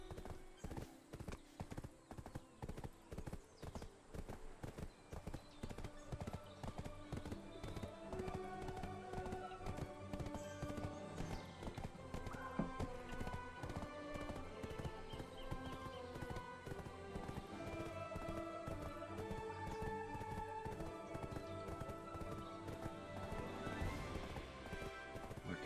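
Horse hooves clip-clopping in the video game Black Desert Online, a steady rapid rhythm of hoofbeats throughout under game music, with no talking.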